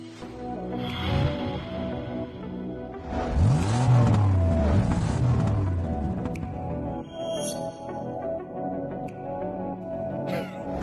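Racing cars and a taxi speed along with engines revving and whining up and down in pitch, loud and close, joined by music and cinematic sound effects.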